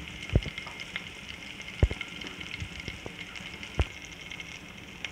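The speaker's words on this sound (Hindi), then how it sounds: "अब इसमें डालूँगी मैं ज़ीरा, मिर्चें डालूँगी साथ में, कुछ सुरख मिर्चें" Quiet crackling sizzle of cumin, chillies and ginger frying in hot ghee for a dal tempering, with a few sharp pops standing out over a steady hiss.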